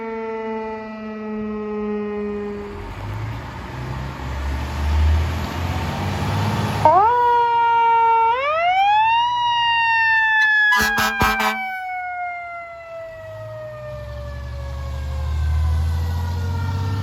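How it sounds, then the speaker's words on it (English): A Bayport Fire Department fire engine siren sounds on dispatch, a loud wailing tone sweeping down, then abruptly up and falling again, with a brief burst of mechanical yelp partway through, heard outdoors at a distance over low background noise. "as you saw the fire department dispatch a fire engine"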